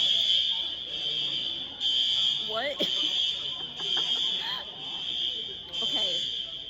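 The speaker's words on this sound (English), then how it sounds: "The fire alarm goes off for, I'm not even kidding, like 30 minutes, and it is" A cinema fire alarm blares as a loud, continuous high-pitched tone pulsing in repeated bursts, with people talking and shouting beneath it.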